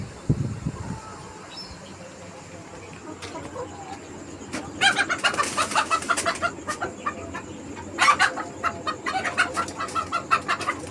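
Layer hens on a farm at evening feeding time, bursts of rapid clucking and squawking from several birds, close and lively in clusters after a quieter start, with no speech.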